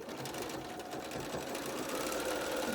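A sewing machine runs continuously as it stitches along the fold of outer mask fabric to form an elastic casing, a steady close-up motor hum with a rapid needle rhythm.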